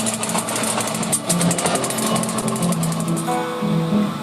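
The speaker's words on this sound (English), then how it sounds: "This is how they keep the rails clean." Railway track-work machinery cleaning the rails makes a rapid, rhythmic hammering clatter over a low mechanical hum, loud and continuous throughout.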